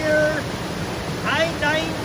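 Hall Creek in Washington rushes past as a broad, loud, steady roar of flowing water, with a voice talking over it.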